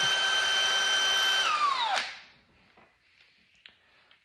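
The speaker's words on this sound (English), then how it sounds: "It easily drills through it." A drill bores into an LS engine block through a steel jig with a loud, steady high whine for about two seconds, which falls in pitch and winds down, followed by faint clinks.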